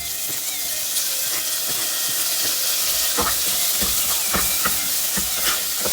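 Chopped tomato and onion fry in hot oil, giving a loud, continuous sizzle with frequent clicks and scrapes of stirring throughout.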